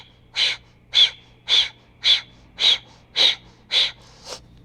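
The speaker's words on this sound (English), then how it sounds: "Keep the breath pumping" Rapid pumping breaths during a yoga breathing exercise come as eight sharp, evenly spaced forceful exhales through the nose, about one every half second. They are close and loud, with the last one fainter.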